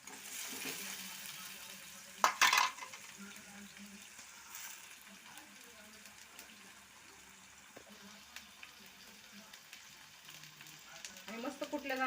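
Chilli thecha dropped into a pan fries with a steady low sizzle, a brief loud crackling splash as it goes in, and occasional stirring scrapes, fairly quiet throughout.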